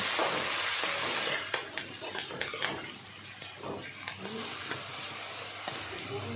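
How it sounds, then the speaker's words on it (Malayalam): Curry leaves, garlic, ginger and green chillies fry on low flame for a beetroot pickle, a soft continuous sizzle broken by light stirring clicks, fairly quiet. "ഇത് നന്നായിട്ട് മിക്സ് ചെയ്ത് കൊടുക്കുക. ലോ ഫ്ലെയിമിൽ വെച്ചാൽ മതി."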